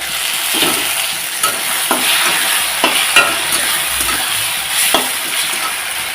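Green chilli paste fries with spices in a pan for mutton curry, giving a steady close hiss with periodic scrapes and knocks as a spoon stirs, and no voices.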